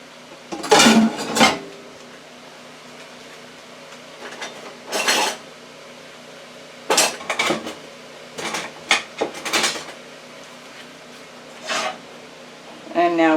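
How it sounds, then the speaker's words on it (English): Chicken and vegetables tipped into a frying pan for Hawaiian chicken and broccoli, heard as a few separate bursts of clattering pan and utensil scrapes between quiet stretches, close by. "Now let's bring our frying pan back over. We're going to add our chicken and vegetables."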